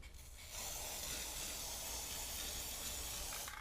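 A bronzing coating hisses from a spray nozzle onto an item in one steady, quiet burst of about three seconds that starts and stops abruptly, with no talking.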